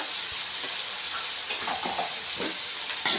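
Potato fry with green chillies and turmeric sizzles steadily in a pan, a continuous close hiss, with soft scraping as the mixture is stirred.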